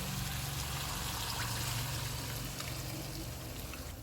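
Continuous rushing splash of chickpea cooking water being poured into a pan of fried spices, fairly steady, then easing slightly at the end.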